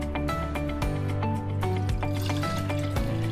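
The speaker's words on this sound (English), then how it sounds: "So I will use mason jars and I fill them almost to the top." Juice splashes and gurgles as it is poured into mason jars filled almost to the top, a close, continuous pour with a pitch that shifts as each jar fills.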